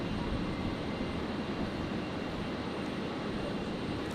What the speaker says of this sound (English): It's just it's a little Cessna Citation, so it's not very big. Little business jets.